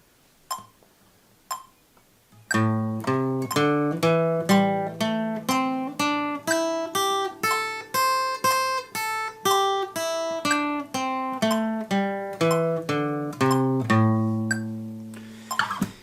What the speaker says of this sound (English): we're playing 2 beats every time there is a beep on the metronome